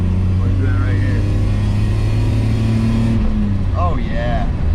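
A BMW E34 535i climbs through the revs past 4000 rpm, its engine note a steady rising drone heard from inside the car, with someone talking over it.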